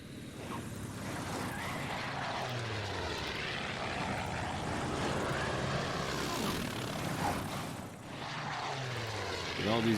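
Propeller aircraft coming in to land in the WW2 Pacific strategy game Order of Battle, a continuous droning engine roar at moderate distance, swelling slightly and holding steady.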